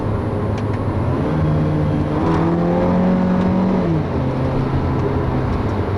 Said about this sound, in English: The exhaust actually makes a pretty decent pop burble sound